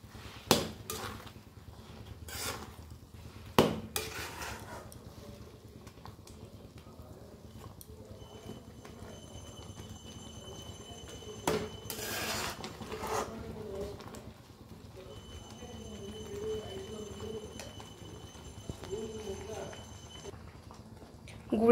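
Grated coconut stirred into melted jaggery in a pan, with sparse utensil clacks and knocks scattered over a quiet background and soft talk running through.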